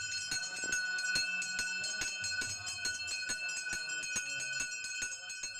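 Church tower bells ringing steadily, with repeated bright, overlapping strikes and a sustained metallic hum that fills the whole stretch, moderately loud and heard alone without voices.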